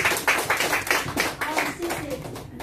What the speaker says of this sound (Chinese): 我们呢用最热情的掌声来欢迎我们的吴老师